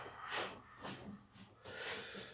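Person being given a back massage with elbow techniques, breathing out audibly in several soft, airy exhalations spaced about half a second apart, close and quiet.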